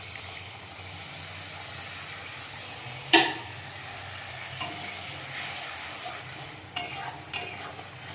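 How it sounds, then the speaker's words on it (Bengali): Spice masala with tomato paste frying and being stirred in a pan, a steady low sizzle broken by several sharp scrapes and clanks of the spoon against the pan, close and without talk. "এবার অনেকক্ষণ ধরে মশলাটা কষাবো"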